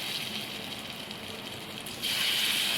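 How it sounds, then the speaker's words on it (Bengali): Potato pakoras dropped into hot oil hiss in a steady bubbling sizzle that grows suddenly louder and brighter partway through. "তেলটাও গরম হয়ে গেছে এবার আস্তে আস্তে আমি ছেড়ে দিচ্ছি ছোটো ছোটো করে ছেড়ে দেবো পকোড়াগুলো"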